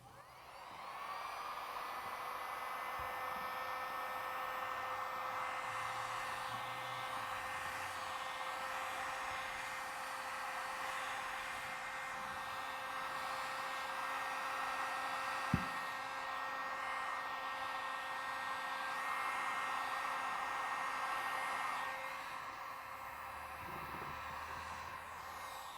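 Heat gun blowing on a dented plastic car bumper, a steady airy whir with a constant hum running nearly the whole time, fairly quiet, with one sharp click partway through.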